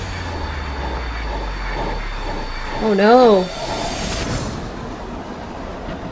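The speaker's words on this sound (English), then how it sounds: "The subway sound!" Subway train from the Scream 6 trailer, its rumble running steadily under a brief rising metallic squeal of wheels, with people reacting over it.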